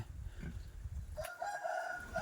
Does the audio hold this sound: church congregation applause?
no